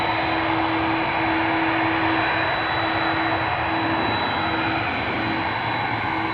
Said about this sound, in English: listen to the sweet, sweet music of the A330 that has lined up in the meantime